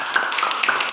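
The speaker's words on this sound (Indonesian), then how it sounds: "berikan tepuk tangan" A short burst of clapping in a classroom, a handful of quick claps close by, light and uneven over about a second.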